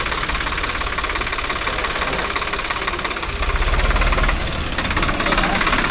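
A Swaraj 855FE or 744XT diesel tractor engine idles close by with a steady knocking rumble throughout, swelling slightly louder partway through, while people talk over it in a field setting.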